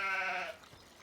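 A sheep in Farming Simulator 17 gives a single short, clear bleat that fades out after about half a second, with no talk over it.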